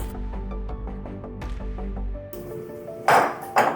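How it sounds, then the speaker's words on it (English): Ice cubes for a matcha frappé tumble into a blender jar, a series of sharp clinking, rattling impacts over the first two seconds, followed by louder scraping clatters near the end. "So we're putting in about 4 cups of ice."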